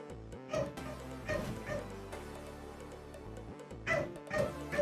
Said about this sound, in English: There's a dog that's barking.